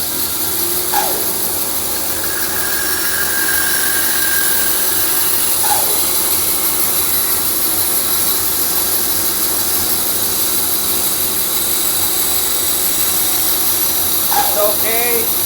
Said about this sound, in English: I'm going to try to talk over the bandsaw, but we'll see how it goes.